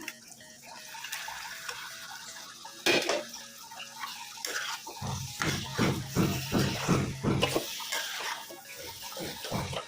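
Lightly toasted chicken is added to cooked masala in a pan, with metal utensils clanking and scraping against the cookware in a quick series of close, stirring knocks and no talk.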